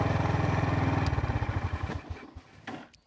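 A Honda GB350 motorcycle engine throbs at a steady idle, then is briefly blipped and lets the revs fall back, with a low, even exhaust pulse.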